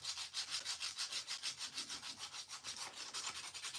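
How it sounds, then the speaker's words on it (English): Sandpaper rubs lightly over a small kitbashed model part in quick, even back-and-forth strokes, a close, dry, rhythmic scratching with no voices. "I'm just letting the sandpaper do all the work because I don't want to lose that detail"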